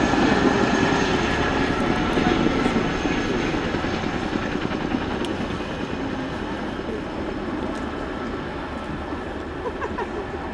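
Royal Air Force Boeing Chinook HC.6 tandem-rotor helicopter in a flying display at RIAT 2025, a loud, continuous rotor and engine roar that stays close and heavy and eases slightly over ten seconds.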